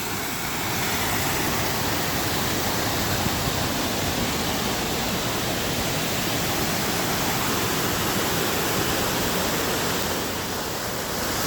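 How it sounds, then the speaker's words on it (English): A waterfall pours into a ravine, giving a steady, dense roar that stays loud and even throughout with no other sounds. "see if I can't get a more spectacular picture of this ravine and the waterfall"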